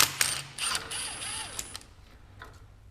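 Light mechanical clicking of a small ratchet being worked, a few quick bursts of clicks and whirring close by, with no talking.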